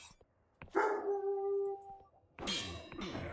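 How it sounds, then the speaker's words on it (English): Indoors, a metallic clang rings out with a sustained tonal ring, then a burst of dog barking and howling joins from nearby, the dogs loud and continuing to the end. "I am so sorry about all the background noise tonight. I do not know what is up with my PlayStation and my dogs."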